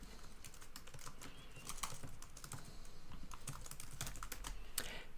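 Note details typed on a computer keyboard: a quiet, steady stream of rapid key clicks with irregular rhythm, close by and without talk.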